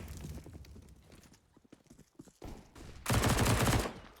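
Pistol gunfire from Glocks in a Counter-Strike esports match, with scattered distant shots early, then a loud, dense burst of rapid fire near the end.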